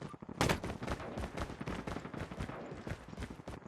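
Video game gunfire: rapid bursts of shots, sharp and repeated, firing in quick irregular volleys at moderate level across the whole stretch.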